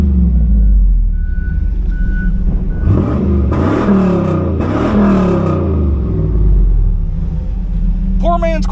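A 1996 Pontiac Firebird Trans Am V8 idles loud and close with a deep steady rumble and a couple of swelling revs midway, with a voice talking over it.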